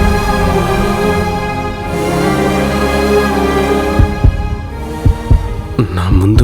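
A heartbeat sound effect starts partway through as a few dull, deep thumps over a sustained musical drone in a TV drama scene.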